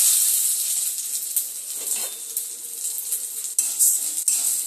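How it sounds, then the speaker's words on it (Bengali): A mix of three kinds of dal frying in hot oil with whole garam masala, giving a steady close sizzle and hiss with occasional soft stirring knocks. "ডালটাকে একটু সুন্দর করে ভেজে নেব, যত সময় না একটু গন্ধ বের হয়।"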